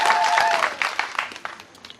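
An audience applauds at a Mvomero constituency gathering, a short burst of clapping that starts dense and thins into scattered claps as it fades.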